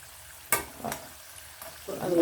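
Sweet potato finger chips fry in hot oil, a soft steady sizzle broken by a few sharp stirring scrapes, with the bubbling rising louder toward the end.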